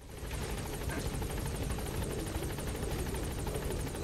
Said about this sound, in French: On est obligé d'aller dans l'hélicoptère pour aller prendre les missions.